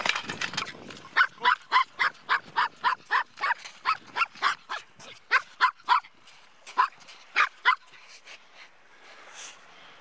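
A dog barks in a long, fairly even series of sharp, close barks, about two per second, over a quiet outdoor background, pausing briefly before a few final barks.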